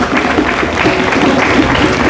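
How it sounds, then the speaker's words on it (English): An audience at an African cultural night applauds dancers after a performance, with brief, dense clapping that stays fairly loud and close, and a voice faintly audible beneath it. "Please give them a round of applause."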